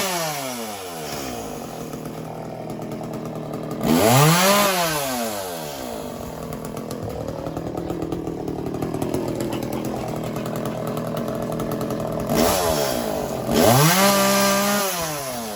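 A borrowed chainsaw runs steadily for the whole stretch, clearing away a pine tree, with two loud revving bursts as the throttle is opened near the start and again toward the end, no voices heard.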